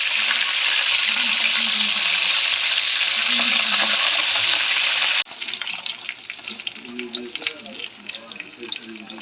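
Tilapia fish drops into very hot oil and fries with a loud, dense, steady sizzle, which then thins into a crackling, sputtering hiss with scattered pops.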